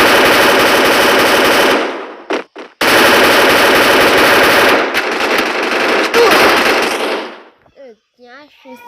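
Rapid automatic gunfire in a shooting video game, dense loud bursts that stop abruptly, resume, then thin into scattered shots, with a voice speaking briefly toward the end.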